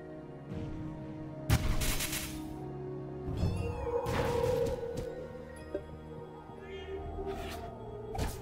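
A cat in the video game Spiral Knights gives several meows amid game effects, including a loud burst and thumps, with warbling cries rising in the middle and again near the end.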